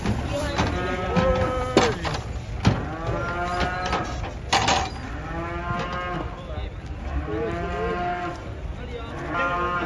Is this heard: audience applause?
no